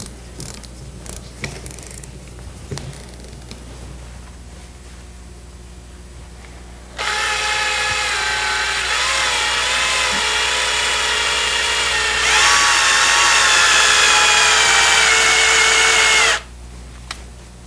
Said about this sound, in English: I'll line those up and fit them into the chuck on my drill